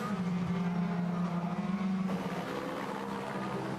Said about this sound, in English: Timo Scheider in the queue as the cars work their way then on this opening lap downhill